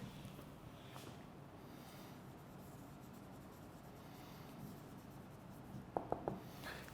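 Pen scratches across paper in a lecture, writing out synonyms, heard as a soft, continuous close scratching over quiet room tone, with a few sharper ticks near the end.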